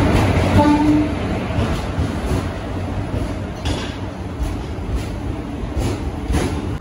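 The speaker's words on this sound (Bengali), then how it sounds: "এখন ঢুকছে বাংরিপোষি পুরী স্পেশাল ট্রেন।" The Bangriposi–Puri Special train rumbles loudly into a station, steady heavy rolling noise with a brief horn note near the start, fairly close.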